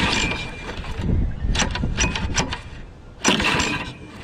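A Craftsman lawn mower engine with several faults, primed with starting fluid, cranks and sputters in uneven, rough bursts without settling into a steady run. It is close and fairly loud, with brief gaps between attempts.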